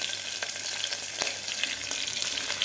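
Ginger-garlic paste frying with green chili and cumin in a pot for a cashew-pea pulao gives a steady, close hiss of sizzling oil with occasional soft scrape clicks, no voices.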